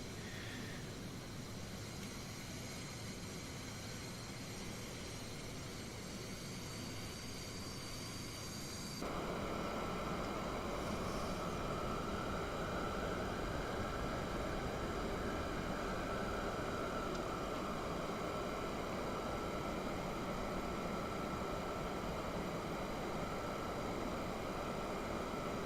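Aircraft engine in the DCS flight simulator game, a steady whining hum that jumps to a louder, broader roar about a third of the way in and holds there.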